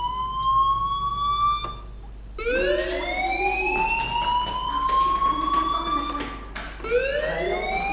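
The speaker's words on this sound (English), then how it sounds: "do you hear that fire alarm?" A school fire alarm in the Life Is Strange video game wails in repeated rising sweeps, loud and steady, with a brief break before the tone resumes.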